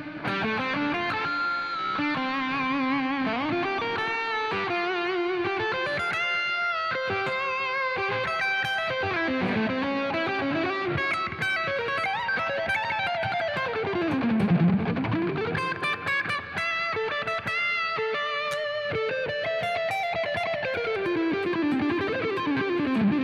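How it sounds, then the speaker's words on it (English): An electric guitar played through heavy distortion and high gain holds sustained, singing notes with repeated pitch bends that swoop up and down, loud and continuous with no talking. "That's a tough one to get out without a lot of distortion."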